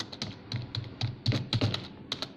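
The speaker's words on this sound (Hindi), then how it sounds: "यहाँ से मैं आपको हिंदी में टाइपिंग लिखता हूँ" Rapid clicking of keys on a computer keyboard during typing in Hindi, a run of close, crisp taps with short pauses, heard alone without talk.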